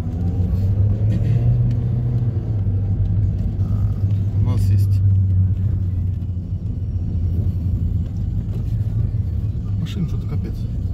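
Road traffic beside a flea market in Kharkiv: a continuous low rumble of many cars passing, with one vehicle swelling louder early on. People talk over the traffic throughout.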